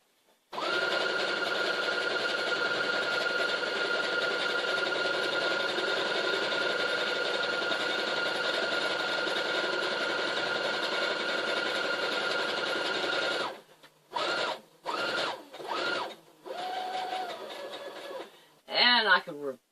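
Sewing machine stitching a feathered pillow, running in one long loud continuous whir at speed, then stopping and starting in short bursts while someone talks and chuckles.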